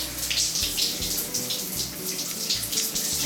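Water runs steadily from a tap while body scrub is rinsed off the skin, a continuous close splashing hiss with brief surges and no talk over it.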